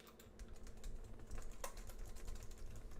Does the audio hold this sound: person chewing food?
no